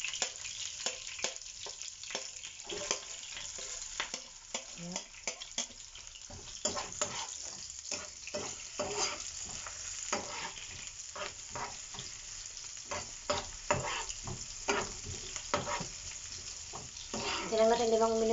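Garlic frying in a pan for beef kare-kare, a soft continuous sizzle broken by frequent stirring scrapes throughout, fairly close and moderately quiet.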